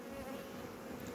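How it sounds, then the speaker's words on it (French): Honeybees hum steadily at a hive under attack by robber bees, a faint, continuous buzzing drone with no voices. "Même si c'est de l'abeille relativement douce."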